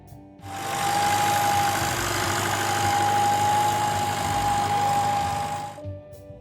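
International Harvester Cub compact tractor with a liquid-cooled 4-cylinder C60 engine of 59.5 cubic inches runs steadily at close range, a loud, even mechanical drone with a faint whine, starting and stopping abruptly.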